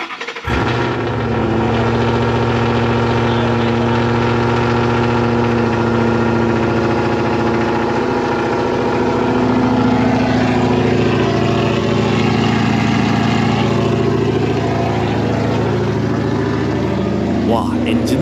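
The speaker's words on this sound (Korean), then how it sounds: "와, 엔진은 조용한데 배기음이 엄청 크네." A 420-horsepower Ford Mustang GT with manual transmission idles, its engine quiet under a deep, loud, rumbling exhaust, holding a steady throaty drone close by.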